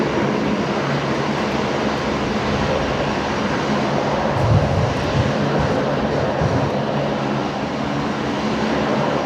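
A United Boeing 777 jet at Brisbane airport gives a steady, loud engine roar that holds constant throughout, a broad sustained rumble with no voices over it.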